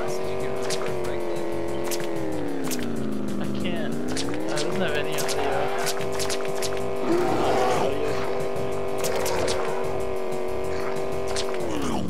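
Car driving in the video game Enviro-Bear 2000, a steady engine drone rising and falling with brief tire-skid bursts, under game music and with people talking over it.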